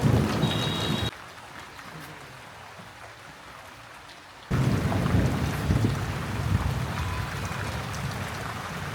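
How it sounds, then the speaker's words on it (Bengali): Heavy rain arrives with thunder, a loud broad roar of downpour and rumble that drops away briefly before surging back even stronger, with no talking. "ফাইনালি বৃষ্টি চলে আসছে"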